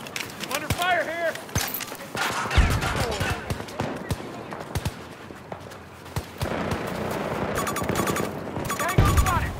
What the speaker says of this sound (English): Bullets incoming! I'm under fire here!